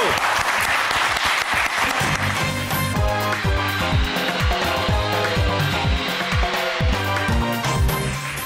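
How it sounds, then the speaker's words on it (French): Loud applause from a TV talent show audience for the returning champion contestant, steady throughout, with music playing prominently beneath the clapping. "Et applaudissements pour Lorenzo!"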